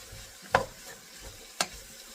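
Mushrooms get stirred into vegetables frying in oil, a soft low sizzle punctuated by two sharp scrapes of a utensil in the pan.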